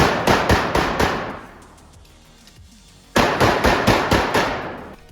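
A Canik TP9 Combat Elite pistol fires at an outdoor range, two rapid strings of about six loud, sharp shots each, separated by a pause of roughly two seconds.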